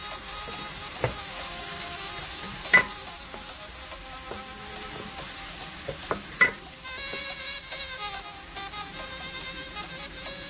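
Onion, garlic and ginger stirred in a frying pan for an Ethiopian vegetarian dish, with a steady soft sizzle and scattered scraping clicks of a utensil against the pan, plus a few louder knocks, close and alone with no talk.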